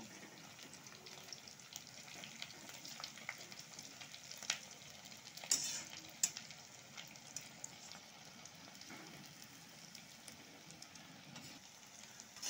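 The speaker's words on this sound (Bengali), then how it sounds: "তো এই যে দেখতে পাচ্ছ আমার একটা সাইড কিন্তু ভাজা হয়ে গেছে। তো এভাবে এগুলো উল্টে নেব।" Crispy raw-rice pakoras fry in oil in a kadai and are flipped over, giving a soft, steady sizzle with occasional light scrapes and bubbling, faint and close with no talking.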